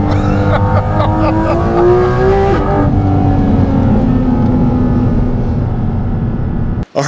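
Porsche GT3 RS and GT4 RS race cars drive hard, a loud close engine note climbing and shifting over a rushing roar, cut off abruptly near the end.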